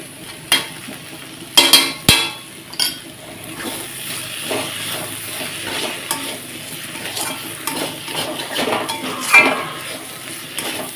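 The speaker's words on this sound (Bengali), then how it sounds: "বাবু থালার আওয়াজ করছে" A small child bangs metal plates in a home kitchen while a vegetarian cabbage dish is being cooked, giving sharp clattering hits at irregular moments over a steady background of cooking and utensil noise.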